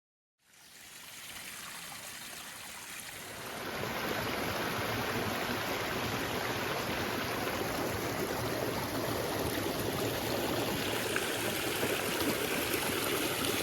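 A creek flows near Comers Creek Falls on the Appalachian Trail, a steady close rush and trickle of water that rises in the first seconds and then holds loud and even, with no voices.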